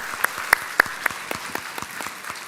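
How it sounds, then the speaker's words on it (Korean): Church congregation at a Sunday service clapping in encouragement: scattered, uneven hand claps with a few sharper near claps, fairly light and brief, no talk over it. "여러분 격려의 박수 해주시기 바랍니다"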